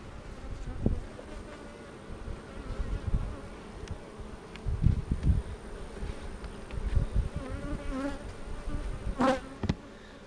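Honeybees buzz around an open hive, a soft steady hum of many insects with louder passes as individual bees fly close by, outdoors and with no talking.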